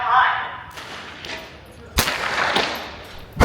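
Sharp, loud gunshots at an outdoor shooting range: one blast near the two-second mark and another at the very end, with the faint crack of other firing between them.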